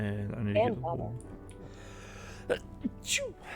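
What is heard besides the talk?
sneeze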